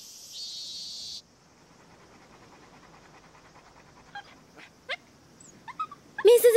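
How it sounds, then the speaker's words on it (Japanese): A dog comes close and whimpers in a hot summer outdoor setting: soft, brief whines and snuffling sounds near the end, over a faint background hum, after a short burst of high insect-like buzzing at the start. "犬さんが寄ってきたで"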